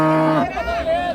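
A young male calf lows at the Honnali cattle market, where Jersey cows are sold. It gives one close, drawn-out moo of about a second, with market voices murmuring underneath.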